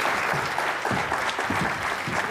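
A studio audience at a television talk show claps loudly and steadily, a dense sustained round of applause filling the whole moment.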